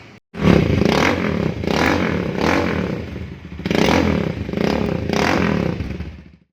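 A BMW S1000RR replica sport bike with a 250cc single-cylinder engine, revved hard in several loud bursts that rise and fall between brief dips, heard close up with some mechanical clatter.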